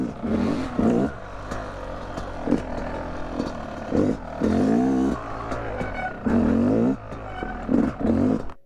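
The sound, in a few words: two-stroke dirt bike engine revving after kickstart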